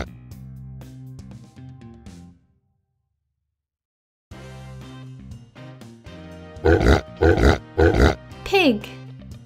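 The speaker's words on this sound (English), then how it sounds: "Pig." Several loud, rough grunting snorts from a pig in close succession, following a stretch of other animal-like sounds and a short silence.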